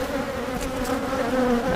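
Honey bees buzz steadily around an open hive, a dense close hum with sustained droning tones and no pauses.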